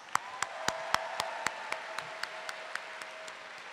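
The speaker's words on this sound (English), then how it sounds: "Let's give the accordants one more round of applause" Audience applause at a university convocation ceremony, thinning out into a sparse scattering of claps with a steady tone sustained underneath, fairly quiet and without voices.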